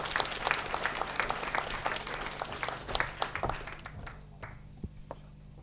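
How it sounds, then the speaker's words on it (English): An audience claps for a performer at a Carlisle College music evening, a dense round of applause that thins and trails off into scattered claps near the end. "round of applause for Drew"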